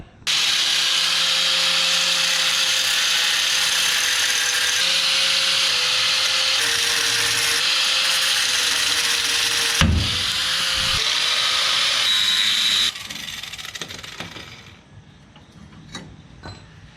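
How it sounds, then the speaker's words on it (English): A cut-off wheel grinds through the U-bolts on a Ford Bronco during a rear lift block install, a loud continuous high whine for about ten seconds, then a brief clank, another cut, and the wheel spinning down with a few light taps. "I'm just gonna cut these U-bolts off of there and go from there"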